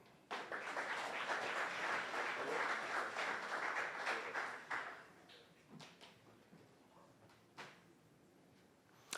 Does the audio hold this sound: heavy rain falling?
no